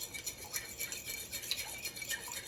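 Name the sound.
mixing macaroni and cheese ingredients in a bowl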